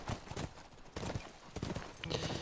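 Galloping horse hooves in The Last of Us, a fast drumming clip-clop rhythm of repeated hoofbeats, loud and close throughout with game ambience behind.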